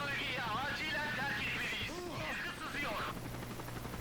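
A rescue helicopter in the video game Call of Duty Modern Warfare 3, its rotor drone running under dubbed character dialogue and scattered combat noise throughout.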